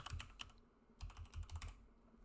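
Quick bursts of keystrokes on a computer keyboard, typing out a name in short clustered runs with brief pauses, close and clear, with no talking.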